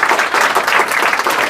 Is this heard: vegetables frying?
no